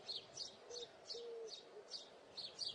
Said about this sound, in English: You can hear the chirping of the birds as well.